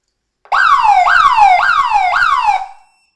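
A security alarm siren sounds during a test with a loud, close wail that rises and falls four times in a steady cycle, then cuts off abruptly.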